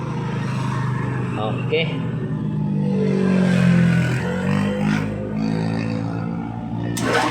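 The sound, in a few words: Yamaha Mio motorcycle engine sputtering and backfiring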